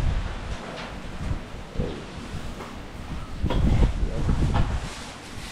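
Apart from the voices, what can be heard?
strong wind blowing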